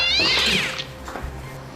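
A cat gives one drawn-out meow that rises and falls, followed by a shorter softer cry, close and loud with no talking.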